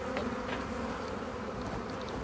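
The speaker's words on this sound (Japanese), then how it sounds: "働き蜂が女王蜂を囲んでいるのは、ひどい目に遭った女王蜂をいたわっているようにも見えますが" Honeybee workers cluster around a queen bee, a dense close-up buzz of many wings humming steadily and fairly quietly without pause, with no talking.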